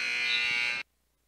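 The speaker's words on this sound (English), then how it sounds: "Thank you, buzzer." A basketball game buzzer sounds at an Arizona vs Oregon game, one loud, steady electronic blast that cuts off sharply, leaving near silence.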